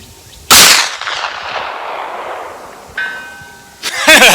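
A POF Tombstone 9mm lever-action rifle fires 115 grain XTP rounds at an outdoor range, one loud sharp report with a long ringing decay. A faint metallic ping follows from the target, then a second shot starts at the end.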